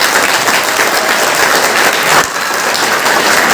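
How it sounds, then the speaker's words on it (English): A crowd applauding loudly and steadily, a dense wash of clapping that dips briefly before continuing. "Now you can give him a big round of applause."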